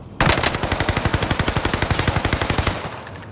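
Rapid automatic gunfire in a multiplayer shooter match, a long sustained burst of evenly spaced loud shots with no talking over it.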